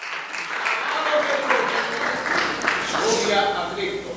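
A church congregation applauds to God during a sermon, steady broadband clapping from many people that swells and holds for a few seconds, with voices underneath.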